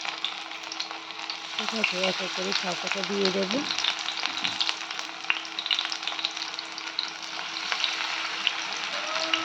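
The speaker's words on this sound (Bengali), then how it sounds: "আমি রিফাইন তেলে ভাজা করেছি" Egg and greens fritters frying in hot refined oil in a frying pan, a steady dense sizzle that runs throughout, with a short stretch of speech early on and a few stirring clicks.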